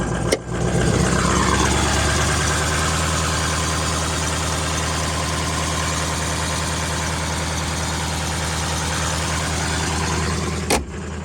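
Under the open hood, a 2003 Ford F450 14-foot box truck's diesel with about 261,000 miles idles with a close, steady low throb and diesel clatter, with two brief sharp knocks near the start and end.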